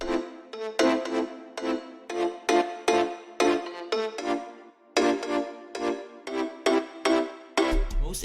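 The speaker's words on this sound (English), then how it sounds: "I went for the mallet style chords with a super simple saw on top of" Synth pop production with mallet-style chords and a simple saw lead on top, playing in a steady rhythm of repeated struck chord hits that are loud and alone with no voices.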